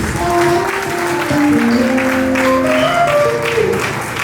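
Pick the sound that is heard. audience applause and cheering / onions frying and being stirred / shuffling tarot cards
audience applause and cheering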